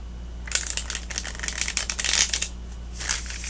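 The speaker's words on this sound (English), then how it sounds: "I'm going to keep shuffling." Barbara Walker tarot cards are shuffled by hand in a quiet room, rapid crisp riffling bursts and flutters with a short pause before a final riffle, close and fairly soft.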